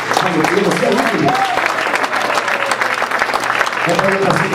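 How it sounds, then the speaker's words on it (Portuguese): Church congregation clapping together during a Sunday service, a loud, steady wash of applause lasting several seconds, with a voice speaking over it near the start and end. "Pode bater mais forte, aplaudir mesmo."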